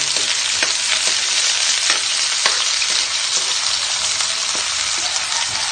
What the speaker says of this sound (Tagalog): ilagay na natin ang bawang, sibuyas, at luya. Hintayin lang po natin mag-brown.